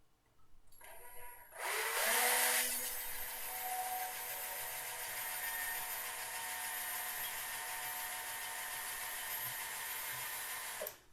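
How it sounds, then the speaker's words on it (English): A power drill spins up and bores steadily through wood, a continuous whirring grind that holds for about nine seconds before stopping. "And we'll drill down straight through that X that we just made."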